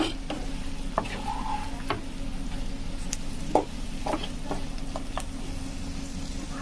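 A spoon stirs egg curry in a pan on the stove, soft scraping and occasional light clicks of utensil against metal over a steady low simmering bed, close and quiet with no speech.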